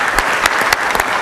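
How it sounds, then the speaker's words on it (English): Brief applause at a city council meeting, a few people clapping in a loose rhythm close by for about a second. "Round of applause."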